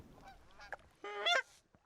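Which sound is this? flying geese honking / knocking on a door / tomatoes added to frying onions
flying geese honking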